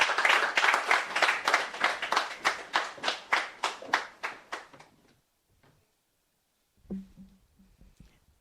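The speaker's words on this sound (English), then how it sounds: "Please, let's keep clapping till she gets here." An audience claps in a steady rhythmic beat, about a dozen even claps slowing and fading, then a brief pause before a few scattered softer claps resume.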